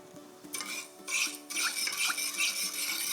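A spoon swirls and scrapes briskly around a small bowl of lemon juice, salt and sugar dressing, the close, light clinking and rasping continuing in quick strokes.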